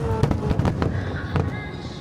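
Nagaoka fireworks burst in a string of sharp booms and crackles, several blasts in quick irregular succession with echoing tails, heard at a distance.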